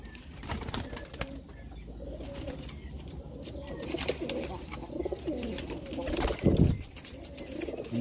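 Pigeons of a single bloodline coo steadily at a breeder's loft, with low rumbling calls and some wing rustling over constant background noise.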